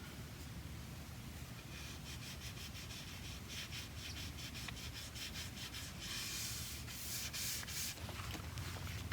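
A car's clear coat is sanded off by hand in a steady, close, continuous rubbing scrape. The gritty back-and-forth strokes run the whole length without pause, and no voices are heard.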